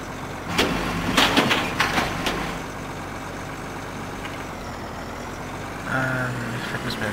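A tractor spreading fertilizer in the Farming Simulator 2009 video game produces a steady low engine drone with a few brief clattering bursts early on and a rise in engine tone near the end, with no talk.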